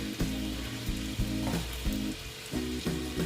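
Frying ingredients for loitta shutki vorta, a dried ribbonfish mash, sizzling loudly and continuously close up with a few sharper bursts as food is stirred in the pan.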